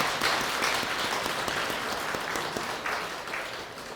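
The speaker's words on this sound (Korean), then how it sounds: "도반들한테 감사의 박수 한번 치세요." Steady applause from an audience of Buddhist practitioners at a temple dharma gathering, thanking their fellow practitioners, dense clapping at moderate volume sustained throughout without speech.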